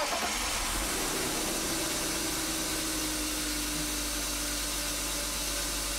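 A BMW 5 Series E39 engine idles in a steady, quiet, even drone with a faint hiss, continuous and close with no other sounds.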